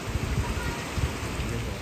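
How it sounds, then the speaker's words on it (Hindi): Heavy rain pouring down outdoors, a steady loud wash of drops hitting surfaces without a break. "वहाँ भी बहुत तगड़ी बारिश हो रही है"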